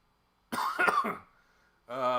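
A single harsh, close cough bursts out and trails off, followed by a short voiced sound.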